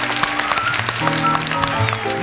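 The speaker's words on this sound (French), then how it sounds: "on les applaudit très fort" Studio audience at a 1977 French TV music show for young fans applauding steadily, a dense wash of clapping with musical tones running underneath.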